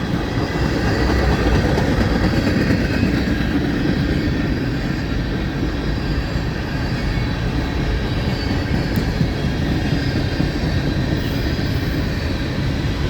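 A long CSX freight train of loaded cars rolls past close by, a steady, loud roar of wheels and rail noise that holds without a break for the whole stretch.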